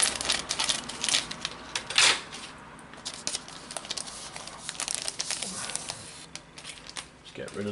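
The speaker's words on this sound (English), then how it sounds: "let's get these scissors to this and take a look at what we've got inside" Scissors cut open clear plastic packaging on a Panini football sticker magazine, giving close crinkling snips and rustles in irregular bursts with a few sharper clicks, while a person speaks lightly in between.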